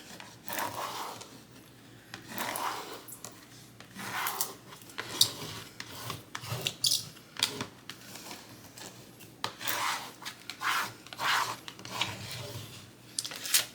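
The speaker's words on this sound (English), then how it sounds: "Okay, let's get that scraped down." A squeegee scraping glitter vinyl down onto a wood sign blank makes repeated short rubbing, rasping strokes in irregular bursts, close and moderately quiet.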